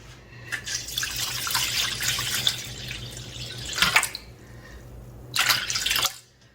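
Water poured into a wide container to make the broth for young radish (altari) water kimchi: a steady splashing pour for several seconds, then a short pause and a second brief gush, close and clear with no speech.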